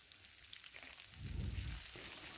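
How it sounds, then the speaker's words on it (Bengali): Chopped onion frying in hot oil with dried red chilli and whole cumin, a steady soft sizzle that swells louder midway as the onion hits the pan, with no talking. "একটু ভেজে নিচ্ছি তো দিলাম একটা বড় সাইজ পেঁয়াজ কুচু করে রেখেছিলাম সেটা দিয়ে দিলাম"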